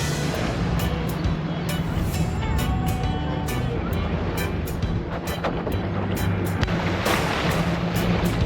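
Surf and waves of the wide-open Atlantic Ocean off Fajardo, Puerto Rico, a steady broadband wash with light wind buffeting on the microphone and no talking.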